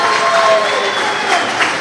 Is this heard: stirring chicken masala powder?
no